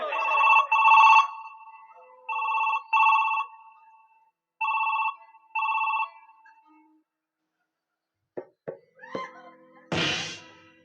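A telephone ringing with a loud, clear electronic trill in four bursts spaced about two seconds apart, followed by silence, a few soft knocks and a brief noisy rustle.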